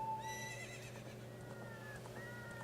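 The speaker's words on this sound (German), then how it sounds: "Komm herbei, treues Pferd" Epona, the horse in Zelda: Ocarina of Time, gives a clear high whinny followed by galloping clip-clop hooves, fairly quiet against the game's steady background music.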